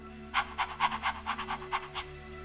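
A person imitating a dog's quick tongue-out panting during a breathing exercise, with equal in and out breaths: about nine rapid, evenly spaced huffs, close and clear, over a low steady hum.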